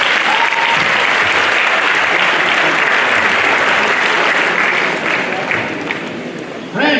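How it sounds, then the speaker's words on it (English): A lecture-hall audience gives sustained, loud applause after an inaugural university lecture, a dense steady clapping that thins slightly near the end before a brief final burst. "Please, a round of applause for you."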